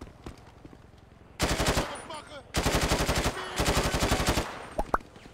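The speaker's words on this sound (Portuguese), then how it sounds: "Tem outro cara dando tiro aqui" Video game gunfire rattles through a favela shootout: a few sparse shots, then long bursts of rapid automatic fire in two main volleys, sharp and close.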